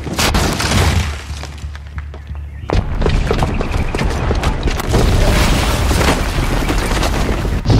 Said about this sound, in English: the booby trap on the bomb downstairs is gonna get set off